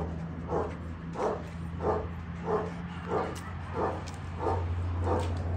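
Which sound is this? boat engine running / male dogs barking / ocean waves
male dogs barking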